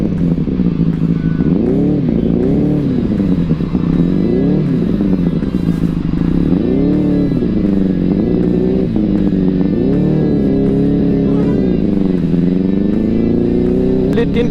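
A Benelli 600i motorcycle rides along with a loud, continuous engine drone rising and falling with the throttle, over a steady rubbing and clattering noise from the chain.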